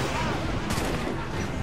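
Ship cannons fire in the video game Assassin's Creed 4 Black Flag, a dense, loud broadband blast that peaks sharply partway through amid rumbling battle noise, with no clear talk.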